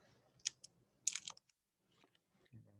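Paper being torn and cut by hand without scissors, a few quiet close crisp tearing and crinkling bursts separated by near silence.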